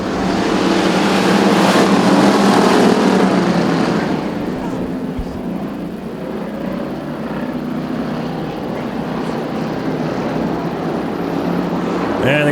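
Bomber-class race cars roaring off together at the start of a heat at Arizona Speedway, a loud, dense engine roar that swells and then steadies as the field pulls away, with a commentator talking over it.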